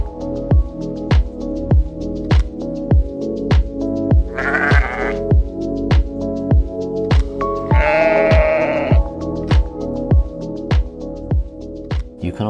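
Sheep bleating in the Cotswolds countryside, two drawn-out bleats close by over a steady, rhythmic series of regular clicks or taps running throughout.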